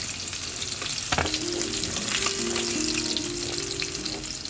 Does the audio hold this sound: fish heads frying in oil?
yes